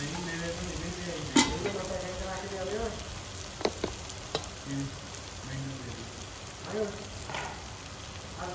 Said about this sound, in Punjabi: ਆਪਣਾ ਜਿਹੜਾ ਟਮਾਟਰ ਪਾਇਆ ਕਰਕੇ ਥੋੜਾ ਜਿਹਾ ਆਪਣੇ ਥੱਲੇ ਲੱਗਦਾ ਕਿਉਂਕਿ ਆਪਾਂ ਇਸ ਦੀ ਕੜਛੀ ਚਲਾਉਂਦੇ ਰਹਿਣਾ